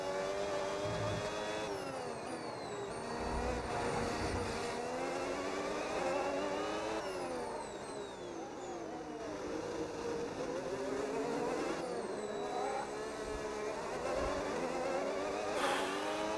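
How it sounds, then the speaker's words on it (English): F1 car engines in the F1 26 racing game, a layered high-pitched whine with repeated rising and falling gear-shift sweeps as cars race past, steady and moderately loud throughout. "I like the new sound of the engines"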